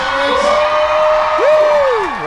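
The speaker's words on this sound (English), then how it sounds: "The sound coming off that crowd, it's amazing to see" A large outdoor crowd at the Ploughing 2019 event whoops and cheers, a loud sustained roar with long rising and falling shouted tones carrying over it.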